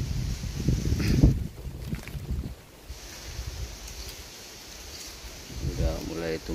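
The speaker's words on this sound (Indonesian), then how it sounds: "Anginnya sangat gede ya" Strong wind blows outdoors over potted durian seedlings in planter bags in Belitung, a loud rushing gust with buffeting on the microphone that eases midway and then picks up again.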